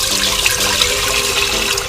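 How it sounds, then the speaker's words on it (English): Banga soup liquid is poured from a container into a cooking pot, making a loud, close, continuous watery splash and rush with no talk. "So this I will now pour into our pot"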